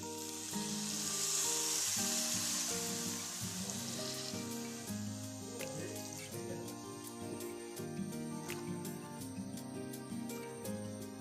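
Steady sizzling of meat in a hot wok after a little water is added, with a bright hiss that swells early on, and a constant hum running underneath throughout.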